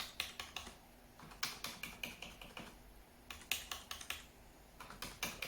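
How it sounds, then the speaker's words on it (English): Fast, uneven clicking of keys on a Microsoft wireless keyboard, with short bursts separated by brief pauses, close up and fairly quiet. "My old keyboard seems to be making more noise."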